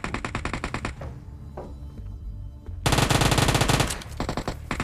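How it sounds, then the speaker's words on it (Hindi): Bursts of automatic gunfire from a PUBG Mobile Lite match crackle loudly in rapid strings, with a quieter gap before another dense volley erupts and then trails off into scattered shots. "मुझे साइड से कुछ गन शॉट्स की आवाज़ आ रही थी"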